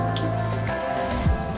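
Vegetables frying in a little oil in a pan give off a steady, close hiss with dripping, crackling pops, and a low tonal hum runs beneath it.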